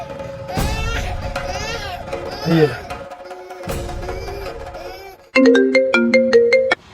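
A phone ringtone plays a loud, repeating electronic melody near the end while a call is placed, after childlike vocal sounds and voices earlier.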